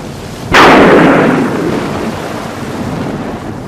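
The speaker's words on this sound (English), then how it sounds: "This was followed by a clap of thunder directly overhead." A loud thunderclap breaks directly overhead during a heavy rainstorm, a sharp crack that rolls into a long, fading rumble above steady background noise.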